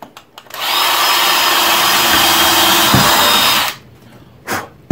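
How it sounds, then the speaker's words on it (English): A power drill drills a hole in a laundry cabinet for about three seconds with a steady high whir, then winds down; a few short clicks and knocks come before and after. "Drill my hole."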